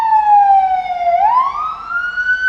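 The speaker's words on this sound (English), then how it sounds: "We have a ambulance going by." An ambulance siren passing by on a street near the Tijuana–San Diego border, a loud wailing tone that sweeps down and then rises again, close and prominent with road traffic beneath it and no speech.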